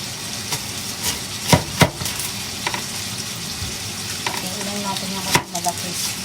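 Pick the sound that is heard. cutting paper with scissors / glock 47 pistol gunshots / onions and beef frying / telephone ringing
onions and beef frying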